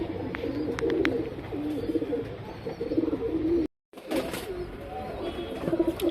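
Gulzar travel pigeons, a male and female pair, coo repeatedly at close range in a soft, rolling rhythm, with a brief silent gap partway through.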